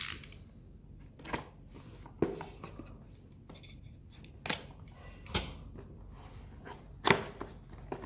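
Packaging of a Logitech MX Master 2S wireless mouse being opened, with scattered cardboard and paper rustles, scrapes and a few sharp snaps spread unevenly through a quiet room, no talking.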